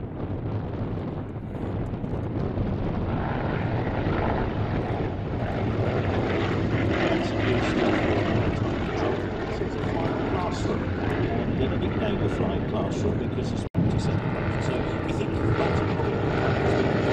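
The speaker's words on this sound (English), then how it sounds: "Bristol Blenheim." A vintage Bristol Blenheim aircraft flies at an airshow, its propeller engines making a steady, loud drone that holds throughout, with wind buffeting the microphone and crowd chatter and talk mixed underneath.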